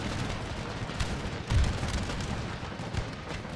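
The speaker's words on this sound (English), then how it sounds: "Okay, let's open fire." Troops opening fire at an Indian fort in Empire Total War: a dense, distant crackle of massed musket volleys with a few heavier thumps, sustained and fairly faint throughout.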